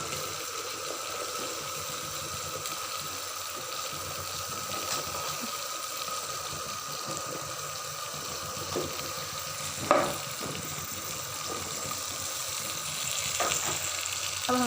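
Okra (bhindi) fries in a masala base in a pan with a steady, moderate sizzle and hiss. One sharp clatter of stirring or utensil contact comes partway through, and no one speaks.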